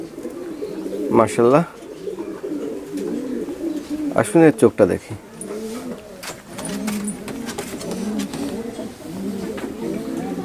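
A female golden pigeon coos repeatedly at close range, its low rolling calls continuing under a man's speech, with a few louder bursts of handling noise.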